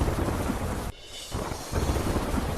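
A sudden mini storm in Narmada, with heavy rain pouring steadily and deep rumbles of thunder. A brief lull breaks the torrent before it returns loud and continuous.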